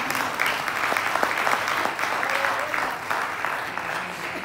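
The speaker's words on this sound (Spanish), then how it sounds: "Un aplauso para ella." A hall audience applauds at a town event in Fuentes de Ebro, with dense, sustained clapping at even loudness and no talk for the whole stretch.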